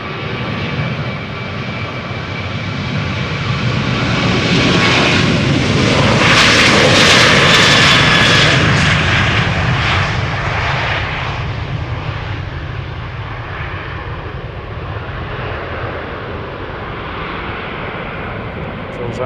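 A Transavia jet airliner takes off at Amsterdam Schiphol Airport, its engine roar building steadily to a loud peak around the middle and then fading gradually as it climbs away, with a voice talking faintly over it.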